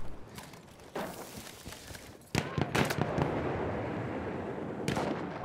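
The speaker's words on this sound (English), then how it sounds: "Throw a bomb over there just in case they respawn on him." Grenade blasts and battlefield explosions in the video game Battlefield 1, with sharp bursts at intervals over a constant rumble of gunfire and combat noise.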